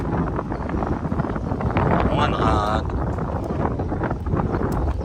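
Wind buffets the microphone in a constant low rumble while people talk close by.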